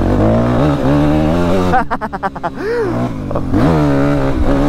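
A 2004 Yamaha WR-F 250 motorcycle engine revs loudly and close, rising and falling in pitch with a few quick throttle blips and a sputtering idle between pulls.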